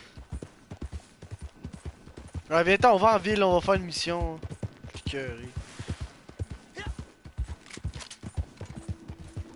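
Horse hooves clip-clop in a video game, a rhythmic trot with a whinny-like stretch partway through. Someone talks excitedly in French over the sound.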